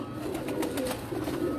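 Golden breeder pigeons coo softly on a rooftop, a low steady murmur of overlapping calls held at moderate distance with faint background hum and no talk.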